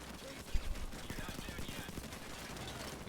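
Rifle fire from the heist shooter Payday 2 crackles in quick successive shots layered over dense background game noise, fairly steady throughout with a sharper burst early on.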